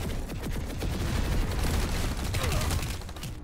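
Dense, rapid gunfire in the online shooter Planetside 2, a continuous loud crackling barrage lasting the whole few seconds with no talk over it.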